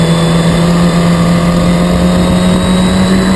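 Historic Formula Ford racing cars at Snetterton, a loud continuous engine drone with a steady pitch, as a car eases off the throttle while running wide on the circuit.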